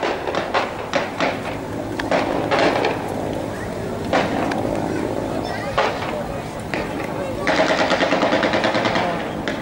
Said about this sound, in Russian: уже пулемет заработал